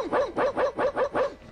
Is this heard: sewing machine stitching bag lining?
no